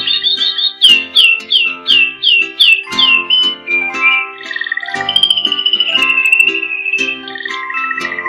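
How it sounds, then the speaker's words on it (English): A canary sings loudly and up close, opening with a run of repeated bright chirps at an even pulse, then sliding into longer warbling trills and whistled notes. "canary"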